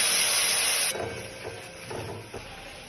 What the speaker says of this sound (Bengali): পেঁয়াজ আমি হালকা বাদামি করে ভেজে নিচ্ছি।